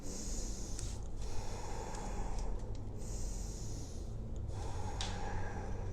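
A person breathes slowly and deeply while stretching with a ball pressed against a wall, long loud breaths drawn in and pushed out through the nose close to the microphone.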